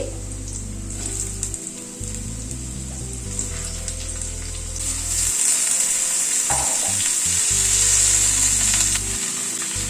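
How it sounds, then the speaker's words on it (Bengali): Vegetables for a chicken curry with papaya and carrot go into a pan of frying garlic, with loud sustained sizzling and stirring scrapes running throughout and no talk. "এবার একে একে সবজিগুলো অ্যাড করে দিচ্ছি"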